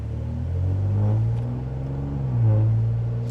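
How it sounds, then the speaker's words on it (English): A Ford Taurus Limited with a catless straight-piped exhaust rumbles loudly and revs up twice, its raw exhaust note rising and falling close by, with no talking. "so you guys get that nice raw exhaust sound"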